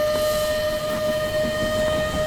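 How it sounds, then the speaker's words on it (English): A steam train moving and gathering speed, with a steady high whistle-like tone above a continuous rumbling, chugging clatter that stays loud and close, with no voices. "Daddy, the train's picking up speed."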